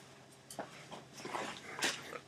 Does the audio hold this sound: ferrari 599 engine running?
no